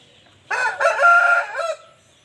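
A rooster, father of a family of chicks, gives one loud, close crow lasting just over a second, standing alone against a quiet background.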